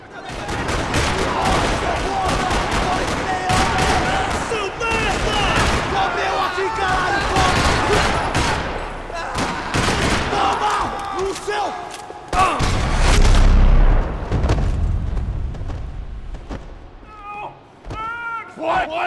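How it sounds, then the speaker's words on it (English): Sustained gunfire rattles through a parking lot in the video game Max Payne 3, dense bursts of shots and impacts running loud and continuous, with a heavy thump near the end and voices mixed in. "Another parking lot rattling with gunfire."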